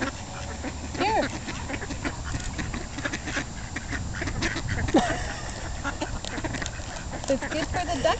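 Ducks at an outdoor duck pond give occasional quacks over steady background noise, heard at moderate distance while people talk close by.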